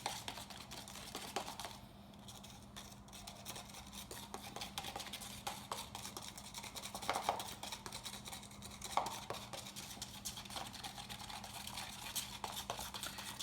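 Alumilite two-part epoxy with phosphorescent powder stirred briskly in a cup, a steady close scraping and tapping that runs throughout with no talking.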